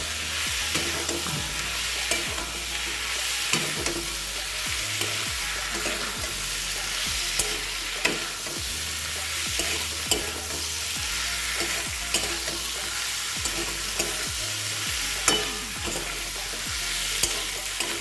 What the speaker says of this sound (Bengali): মাটনের চর্বিগুলো সব। দিয়ে ভালো করে নাড়িয়ে চাড়িয়ে নেব।